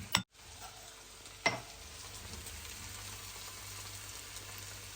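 Garlic sizzles steadily in a hot pan as part of a Marathi home-style brinjal bharit, with a brief stirring scrape near the start and a soft, continuous frying hiss with no talking.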